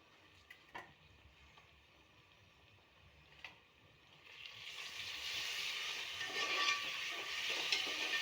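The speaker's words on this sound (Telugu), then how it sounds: "ఆనియన్ అయితే బాగా వేగిపోయిందండి" Onions with ginger-garlic paste and turmeric frying in a pan, a quiet broadband sizzle that swells up and holds steady in the second half, with a few faint clinks early on.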